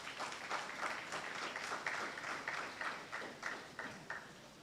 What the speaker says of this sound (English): I think they need a round of applause for that